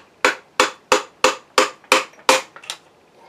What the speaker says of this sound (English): we're just going to use a wooden hammer handle, or something similar to that, and just give a light tap down into place